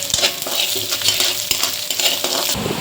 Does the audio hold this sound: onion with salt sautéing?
yes